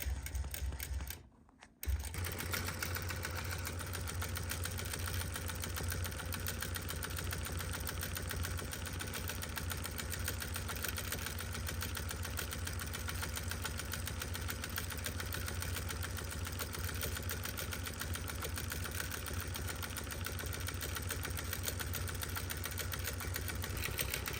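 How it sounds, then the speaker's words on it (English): A longarm quilting machine runs steadily as it stitches binding onto a quilt made of gray and black fabric with backing. Its even mechanical drone continues almost unbroken for the whole stretch, apart from a brief dip near the start. "we're sewing a 1/4 inch in from the sides"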